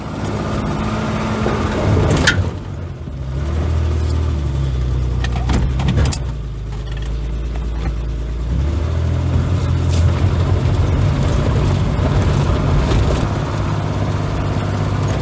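A Ford Ranger pickup's engine runs steadily while the truck is driven and reversed through grass after sitting six years, revving up in swells with a continuous low drone and a few sharp knocks.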